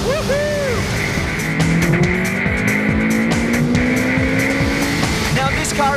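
A powerful 300-horsepower Ariel Atom sports car engine revs hard and climbs in pitch as it accelerates, loud and close, with gear changes and road roar.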